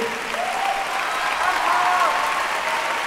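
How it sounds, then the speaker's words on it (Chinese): Audience applause at the close of an orchestra concert, a dense continuous clapping from a large crowd that stays full and even throughout, with a voice speaking over it. "你的掌声再热烈一点，我们会更难忘。"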